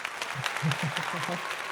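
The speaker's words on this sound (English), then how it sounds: "please give me a round of applause" Clapping from a crowd with speech rising over it, brief and moderately loud, with a few vocal bursts mixed into the applause.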